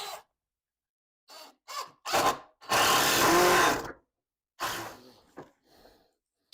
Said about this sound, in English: I'm going to put a couple of 3-inch drywall screws in here